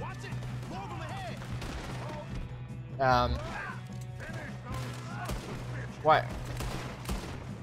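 Gunshots from Red Dead Redemption 2 crack out in a few sharp bursts around the middle and near the end, moderately loud over game ambience, with brief speech and an exclamation from players mixed in.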